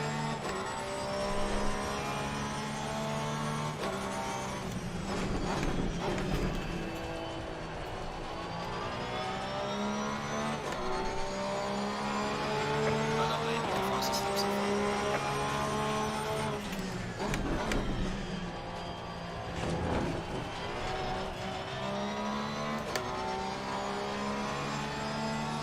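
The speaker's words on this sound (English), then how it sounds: "I'm racing in a Porsche. So this is a Porsche 911 GT3." A Porsche 911 GT3 race car with a rear-mounted engine in Assetto Corsa Competizione, its engine droning and revving steadily for the whole stretch with pitch swings through the gears, loud and continuous, with no talk over it.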